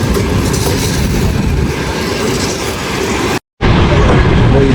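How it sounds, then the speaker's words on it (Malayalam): A Soviet-era train on the Samarkand to Bukhara line in Uzbekistan rumbles loudly and steadily on the rails with a faint clatter, broken by a brief silent cut, with no talking. "ഇതാണ് നമ്മുടെ ട്രെയിനെന്ന് തോന്നുന്നത്."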